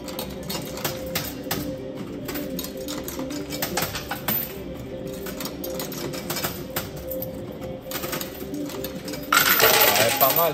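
Coins clatter and drop continuously inside an arcade coin pusher machine, a dense metallic jingling that rises into a louder cascade near the end.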